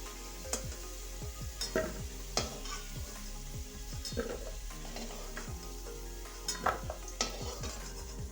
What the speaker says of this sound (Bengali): এখানে মা সবজিগুলো সব এক এক করে ভেজে নিচ্ছে